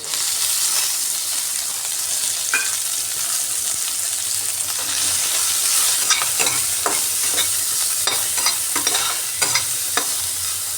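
Ginger, onion and green chilies fry in a pan for an egg dish, giving a steady close sizzle throughout with scattered crackles and spatula scrapes as they are stirred.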